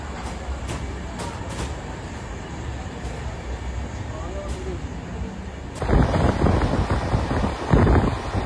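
The Puri Sealdah Duronto Express pulls out of Bhubaneswar at night, a steady rumble of rolling wagons heard from inside with wind noise, growing rougher and louder toward the end.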